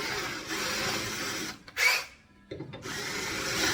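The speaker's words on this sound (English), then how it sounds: "Just drill a pilot hole" A power drill whirs steadily as it bores a pilot hole into the metal frame rail of a Datsun Z, stops briefly, then starts again and continues grinding.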